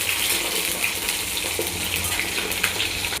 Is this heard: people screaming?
no